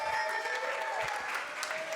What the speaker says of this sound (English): Let's applaud this man real quick.